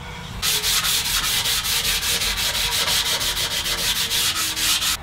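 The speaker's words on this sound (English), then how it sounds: "I'm doing a light sanding in between the first and second coats of wipe-on poly." Steady rhythmic sanding, a hand moving abrasive paper back and forth over a smooth wooden nightstand between coats of wipe-on polyurethane, in quick regular strokes, close up and alone.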